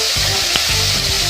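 Mixed vegetables sautéing in a pan for ginataang gulay with anchovies, a steady close sizzle with a few short stirring scrapes and one sharp clink, with no talk.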